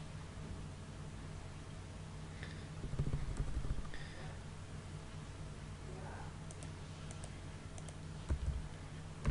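AutoCAD commands typed on a computer keyboard, faint scattered key clicks and taps over a steady hum of room noise, with a couple of louder presses.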